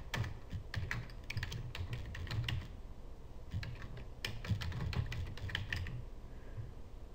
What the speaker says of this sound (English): We type the text in this location.